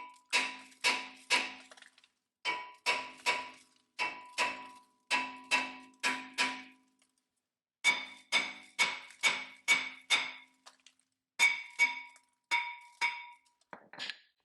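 A hammer strikes a brake rotor on a 2006 Honda Odyssey in quick bursts of ringing metal blows, each group of four to six hits separated by short pauses, close and resonant.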